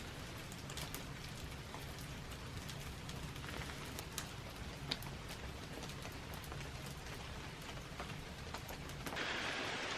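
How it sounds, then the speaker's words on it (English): Rain pattering steadily on a shelter at a solo wilderness camp during a thunderstorm, dense soft drumming with scattered louder drops, continuous and fairly quiet. "Well, it's raining."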